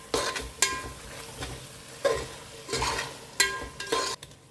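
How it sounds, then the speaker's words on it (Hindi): A spoon stirs and mixes tiranga veg biryani in a pan, giving repeated scraping strokes with soft sizzling between them, close and clear with no talk. "अच्छे से मिक्स करें।"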